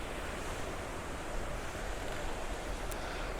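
River water rushes and splashes steadily on a Northern California river, a loud, continuous broadband roar with no pauses and no voices.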